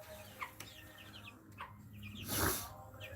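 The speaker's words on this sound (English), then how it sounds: "These are our chicks." Chicks on a small homestead make soft, intermittent clucks and chirps, fairly faint against a quiet outdoor background.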